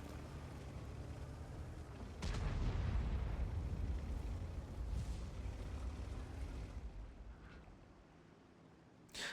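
A 60TP heavy tank in World of Tanks fires its gun with a deep booming blast, followed by a rumbling tail and a smaller thump near the end, heard alone without talk.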